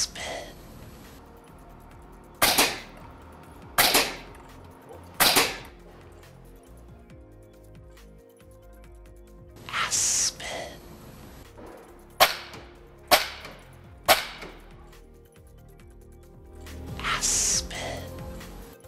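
A Seneca Aspen .25 caliber PCP air rifle fired repeatedly: a series of sharp, fairly quiet cracks, some in quick pairs or triplets and others spaced a few seconds apart, each followed by a brief airy release.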